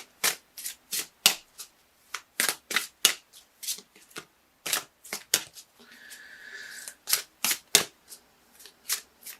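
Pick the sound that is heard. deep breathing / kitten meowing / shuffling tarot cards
shuffling tarot cards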